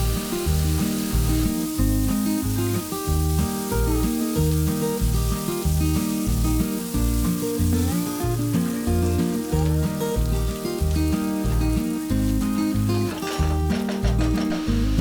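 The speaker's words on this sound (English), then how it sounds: "add oil, add 2 onions chopped and fry it until the onion is nice and soft" Chopped onions fry in oil in a pan with a steady, hissing sizzle that runs throughout, partly under rhythmic background music.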